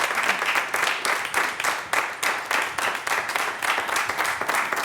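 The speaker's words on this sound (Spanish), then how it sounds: "Un fuerte aplauso para Chuma Sahún y Amparo Llamazares." Studio audience applauding warmly as two guests are welcomed onto a Spanish television set, a steady wash of many hands clapping with rhythmic swells, loud and close, with no talking over it.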